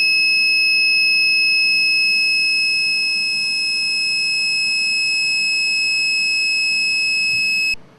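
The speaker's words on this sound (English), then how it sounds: "Here we are provided with a buzzer, and this activates the driver." A steady high-pitched electronic buzz drones continuously, loud and unbroken, then cuts off abruptly near the end.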